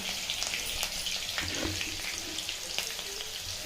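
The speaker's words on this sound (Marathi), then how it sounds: "हिरवी मिरची कट करून घेतलेली आहे ती टाकणार आहे तर हिंग टाकायची चिमूटभर" Chopped green chillies and a pinch of asafoetida go into a sizzling cumin tempering, producing a close, steady crackling fry with small bursts of spitting.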